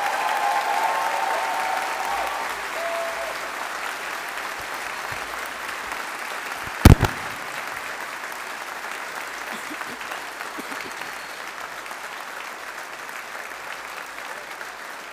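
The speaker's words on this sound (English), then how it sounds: "let's give the class of 2025 a big round of applause." Audience applause at a university graduation ceremony for the Faculty of Science at Strathclyde, a steady, dense roar of many hands clapping that holds for the full length, with one sharp loud knock near the middle.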